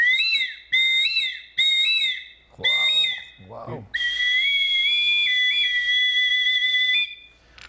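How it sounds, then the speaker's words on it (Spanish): A small Gulf-region flute with an attached whistle plays three short, shrill whistle notes, then a breathier burst, then a long, sustained warbling tone. A voice briefly speaks in between. "aquí tengo una pequeña flauta con un silbato adosado."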